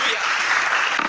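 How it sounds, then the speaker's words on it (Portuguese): A brief stretch of a church congregation's continuous applause, with a voice heard under the clapping. "Vamos aplaudir a palavra do Senhor."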